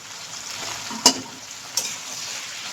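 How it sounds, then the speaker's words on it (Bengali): Potato, pointed gourd and Malabar spinach sizzle steadily in a frying pan, and a spatula stirring them makes two sharp scraping knocks. "এবার আমি যে শাকটা কেটে রেখেছি আমি কিন্তু ওটা দিয়ে দেবো দিয়ে এটাকে আমি কিন্তু আগে ভালো করে মিক্স করে নেব"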